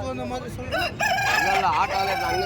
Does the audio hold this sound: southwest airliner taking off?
no